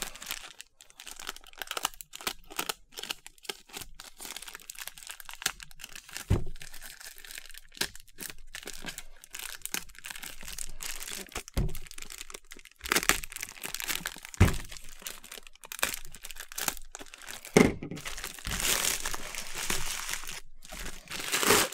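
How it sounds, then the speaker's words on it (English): Plastic wrapping peeled and cut away from a subscription crate box of FPV drone gear, giving irregular close crinkling, crackling and tearing bursts that grow busier and louder toward the end. "I'm going to take this wrapping off of it to look at the box itself"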